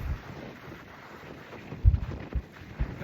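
Strong seaside wind buffets a cyclist near the Fremantle lighthouse moles, a constant low roar with several heavy gusts thumping the microphone toward the end.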